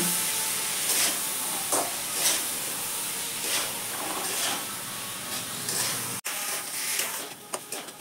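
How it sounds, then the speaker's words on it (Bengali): Spice masala for aloo gobi paneer being sautéed with turmeric, salt and a splash of water in a pan, giving a steady sizzling hiss broken by scraping stirs, close and continuous with no talk. "এবার ভালো করে মশলাটা কষিয়ে নেব"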